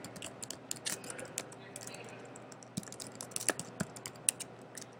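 Someone types an email address on a laptop keyboard, producing quiet, irregular key clicks in short bursts, with a faint hum behind and a voice talking softly.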